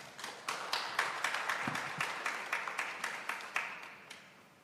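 Audience applause at the 2023 World Ocean Forum in Korea, a round of crisp, individually distinct claps that gradually thins and tapers away over several seconds.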